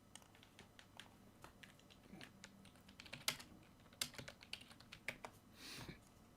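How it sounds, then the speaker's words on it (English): Computer keyboard typing, a quick irregular patter of light clicks and taps at moderate distance with a few louder keystrokes, fairly quiet overall with no talking. "Let me type that up."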